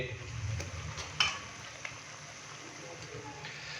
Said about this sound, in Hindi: इसको हम मज़ीद फ्राई करेंगे 3 से 4 मिनट के लिए